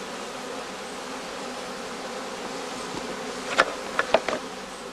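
A honeybee colony buzzing around a heather skep in a heathland apiary in northern Lower Saxony. A steady, fairly loud hum of many bees continues throughout, and a few individual bees zip closely past near the end.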